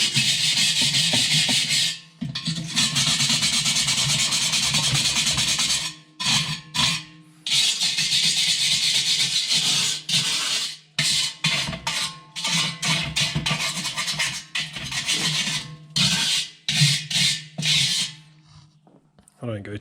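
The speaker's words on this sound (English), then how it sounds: "just get your wire brush and scrape any of that away" Wire brush scraping marinade residue from the inside of a kamado smoker bowl, rough gritty strokes in rapid bursts separated by short pauses, loud and close, with talk heard in places.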